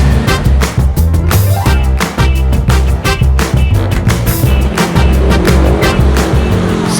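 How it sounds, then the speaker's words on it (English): Dense Bangkok street traffic heard while waiting for a bus, with loud engines of old clunker buses and cars roaring and passing close by in a steady, overwhelming wash of noise. "the noise, the traffic noise on some of these clunkers can be a bit overwhelming"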